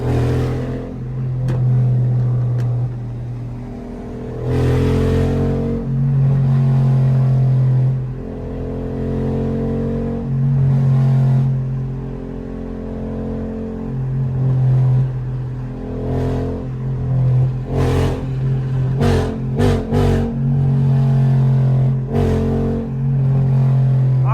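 A loud, deep tuned Hellcat exhaust roars and revs repeatedly on a highway, surging and dropping in bursts over a rumbling drive, close and aggressive, with no voices.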